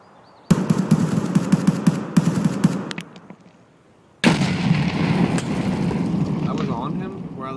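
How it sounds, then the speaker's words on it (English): Gunfire in the video game Escape From Tarkov, dense loud bursts of shots in two stretches separated by a brief lull, with a voice talking faintly underneath. "Those shots are him."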